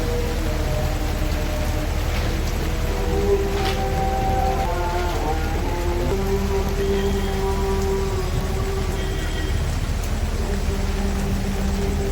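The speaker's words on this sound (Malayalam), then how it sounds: "നല്ലൊരു മഴ ഉണ്ട്" Heavy rain during a thunderstorm drums steadily on a moving truck after loading, a dense continuous hiss with the low rumble of the engine beneath and no talk.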